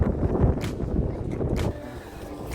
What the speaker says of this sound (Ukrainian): Що це за вітер розпочався?